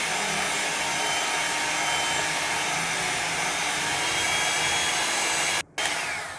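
Electric mixer beating butter cake batter, a loud steady motor whir close by that cuts out briefly near the end and then resumes.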